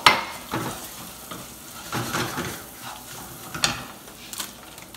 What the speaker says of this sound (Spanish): Vamos a echar el arroz, una taza de arroz, señores.